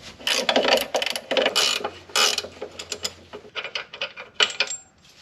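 A ratchet wrench on a 16 millimeter bolt while removing the sway bar from a 2004 Pontiac GTO, giving bursts of quick metallic clicking and clacking close up, with short pauses between the runs.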